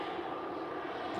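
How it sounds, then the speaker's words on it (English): An airplane coming in to land in slight wind gives off a steady, loud engine drone with no break across the short moment. "We got a plane coming in real quick."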